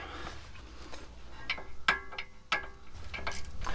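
A hand tool prying a part off near a cotter pin and 19 mm bolt on a vehicle, giving a run of sharp metallic clicks and snaps, several distinct ticks spaced irregularly, close and fairly loud with no talk.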